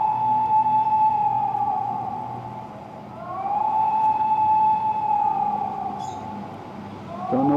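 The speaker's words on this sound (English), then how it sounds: "That's the sound of an air raid siren here in Riyadh." An air raid siren wails across Riyadh, its long rising and falling tone sweeping in two slow cycles against steady background noise, loud and sustained throughout.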